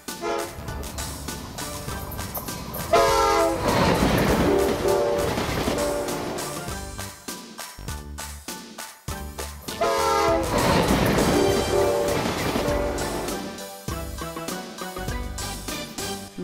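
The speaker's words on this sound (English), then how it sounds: "Bullet train." A high-speed bullet train rushes past, sounding its horn in two loud swelling passes with a brief lull between them, the rumble fading in and out at close range.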